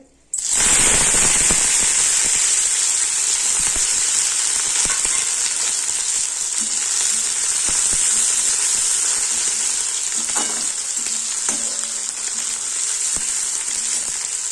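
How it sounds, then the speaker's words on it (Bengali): Dried fish frying in hot oil: a loud, steady sizzle that begins abruptly and holds for the whole stretch, with occasional pops and faint stirring clinks near the end. "আগে শুটকি মাছটাকে একটু ভেজে নেবো হালকা করে"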